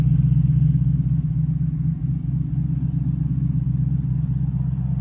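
A Chimaera sports car engine rumbles steadily at idle, a deep, loud, continuous low throb that holds even for the whole stretch, close by with no talk.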